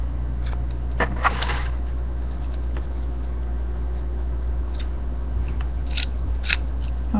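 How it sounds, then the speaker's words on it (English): Scissors snip through nylon flower petal material in a series of light, irregular cuts, with a small burst of quicker snips early on over a steady low hum. "And then you cut it out."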